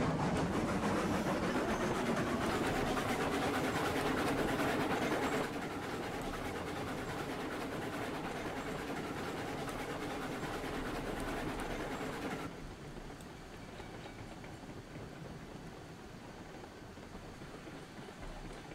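Locomotive running in the RailRoads Online game, a steady broadband rumble of train wheels and engine that drops in level partway through and again near the end, with no talking.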